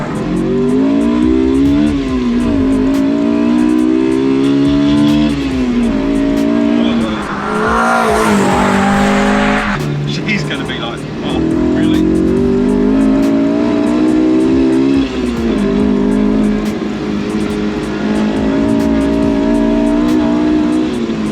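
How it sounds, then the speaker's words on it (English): A Honda S2000-engined Triumph Toledo, 850 kg, accelerates hard with a loud, close, high-revving howl climbing through the gears, brief tire noise during a shift dip, then wailing on steadily at high revs. "it's powered by an S2000 engine, 5 times the power of what it originally came out of factory"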